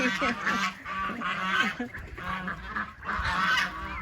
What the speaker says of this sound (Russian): Аишка гоняет моих уток и гусей.